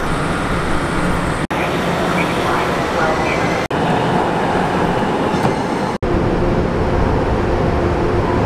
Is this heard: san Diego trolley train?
yes